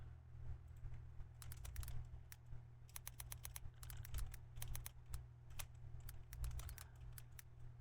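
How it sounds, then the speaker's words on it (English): Rapid bursts of computer keyboard typing, a crisp flurry of clicking keystrokes in uneven clusters over a steady low hum, close to the microphone with no talking. "Is that my keyboard that you're hearing?"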